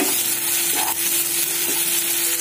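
Ginger garlic paste frying in a pan for an egg and drumstick curry, a loud, continuous close-up sizzle with a few stirring scrapes and a faint steady tone underneath.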